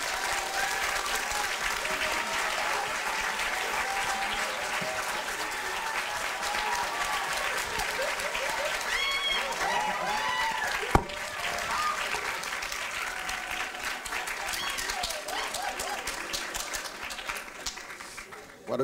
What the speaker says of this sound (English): Donc, je vous demande d'applaudir très, très fort Michael C. Hall.